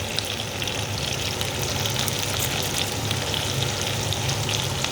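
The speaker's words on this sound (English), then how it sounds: "Put the onions, Myra." Onions fry in a pan for capsicum masala, giving a steady, close sizzle that runs evenly without any talking.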